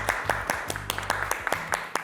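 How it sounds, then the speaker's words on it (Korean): A small group of friends claps for their youngest member, sharp hand claps landing at a loose, uneven rhythm with a steady low hum underneath. "박수."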